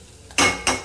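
A lid is set onto a cooking pot with two quick metallic clanks in under a second, close and fairly loud, the second slightly softer, with no talk.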